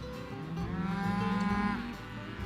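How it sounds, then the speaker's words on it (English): Cattle on a ranch pasture give one long, low, drawn-out moo. It is moderately loud and somewhat distant, with faint outdoor ambience and no talking. "Just look at those cows out on the pasture."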